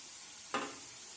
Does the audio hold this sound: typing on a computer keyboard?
no